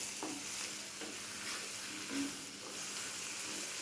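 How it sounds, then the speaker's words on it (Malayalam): Sliced okra (ladies finger) being stirred and mixed in a hot pan, a quiet continuous sizzle broken by soft scraping strokes of a spoon at uneven intervals. "ഇനി എല്ലാം ഒന്ന് ഇളക്കി യോജിപ്പിക്കാം."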